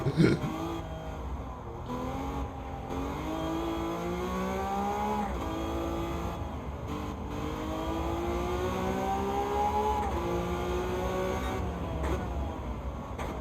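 A Vision GT race car in Gran Turismo 7 drones continuously, its engine note climbing steadily through gear changes, loud and sustained, with a voice faintly underneath.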